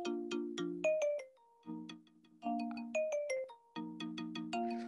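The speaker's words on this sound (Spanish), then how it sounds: "Ese es mi ringtone." Phone ringtone playing the Star Wars theme on marimba, bright mallet notes in quick repeated phrases with short pauses between them, clear and close.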